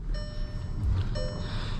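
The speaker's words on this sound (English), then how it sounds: "Typical Volkswagen chime." A 2010 Volkswagen Jetta SEL sounds its ignition chime, two short, clear electronic tones about a second apart over a low, steady cabin rumble.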